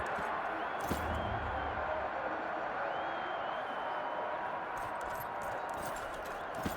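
A cheering arena crowd in the video game Expeditions: Rome, a steady, dense roar of many voices that holds at an even level throughout, with a few sharper cries and thuds rising out of it.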